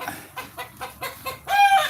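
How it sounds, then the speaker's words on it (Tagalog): A hen clucks in a short series of soft, evenly spaced clucks, followed by a slightly longer, higher call. "Ayun, may nangitlog na manok."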